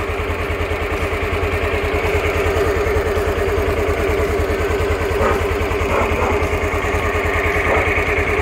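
A Suzuki Burgman AN 125 scooter idles after a carburetor repair kit was fitted, its small engine holding a steady, even putter close by for the whole stretch.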